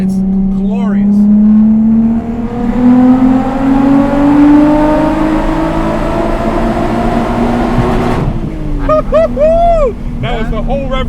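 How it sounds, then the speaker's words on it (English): A VW Corrado VR6 with a MagnaFlow exhaust pulls from low speed to redline inside a tunnel, its loud rising engine note echoing for several seconds before shifting and settling into a rumbling idle with crackles. "Here's what this VR6 sounds. It's glorious."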